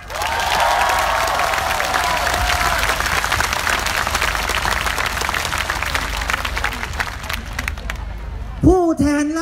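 Steady applause from a large crowd at a political rally at Thammasat University, dense and continuous clapping that fades slightly before a voice speaks at the end.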